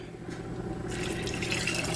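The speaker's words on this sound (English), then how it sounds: "now I'm just going to fill up these jars with water" Water runs steadily from a tap and fills canning jars, a continuous splashing flow that grows brighter and busier as the jars fill, heard alone and close by in a kitchen.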